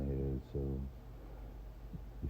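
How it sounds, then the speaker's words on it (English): A person hums along to music close to the microphone, holding two short sustained notes in quick succession before trailing off into quieter vocal murmuring. "excuse my humming along"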